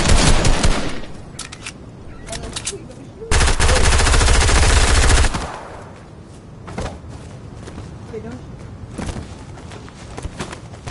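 Rapid video-game gunfire bursts loudly in short volleys, with a sustained stretch of continuous machine-gun fire in the middle and scattered single shots after it, alongside lighter clattering game sounds.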